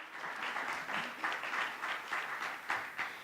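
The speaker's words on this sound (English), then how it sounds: "oh yeah, go ahead and clap." Audience clapping at a news presentation on school performance grades, faint and distant, coming in uneven rhythmic bursts of scattered hand claps that rise and dip across a few seconds.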